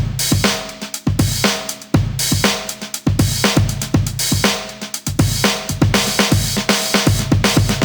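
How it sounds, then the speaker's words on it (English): A punchy breakbeat drum loop with crisp snare hits and kicks repeating in a steady two-second cycle, loud and dry, no voices. "here I have a break drum loop loaded up that sounds like this"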